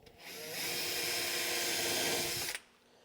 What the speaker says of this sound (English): We're going to hold our slide in place and drill a hole.